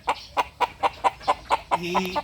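A lemon yellow-legged hatch chicken clucks in a steady run of about nine short, evenly spaced calls, close and fairly loud, ending in a longer, more drawn-out squawk.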